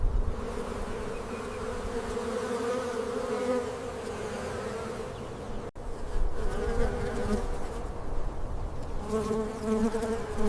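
Steady, loud buzzing of bees close by among grapevine flowers in the desert, a continuous droning hum that briefly dips midway before resuming.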